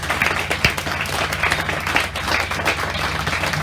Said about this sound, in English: we will give a great big round of applause